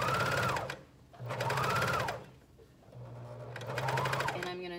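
A coverstitch machine stitching the hem of a tee shirt, running in three loud rapid whirring bursts with short pauses between them, close to the microphone.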